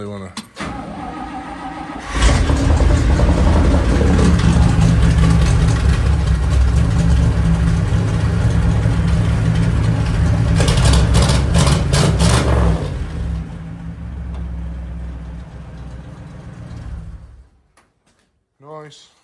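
A revived tow truck engine runs at a steady, loud idle with a strong low rumble, then cuts off near the end; a brief mechanical whir rises partway through, and speech is faintly present.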